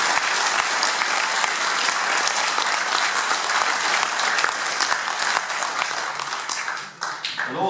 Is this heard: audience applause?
yes